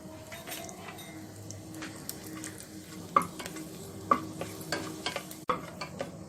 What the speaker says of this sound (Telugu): నూనె వేడైన తర్వాత పలావాకు, యాలకులు, లవంగాలు, చెక్క వేసుకొని వేయించుకోవాలి.